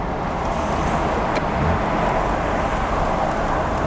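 Nissan Skyline GT-R R33 engine droning steadily under road and wind noise from inside the moving car during downshifts, a constant broad rumble with no distinct rev blips and no voices.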